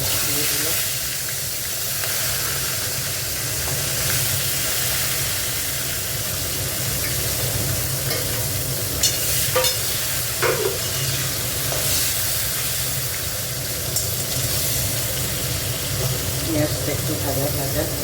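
Onions and garam masala fry in a hot pan with a steady, close sizzle and hiss, alongside a constant low hum and occasional clinks of stirring.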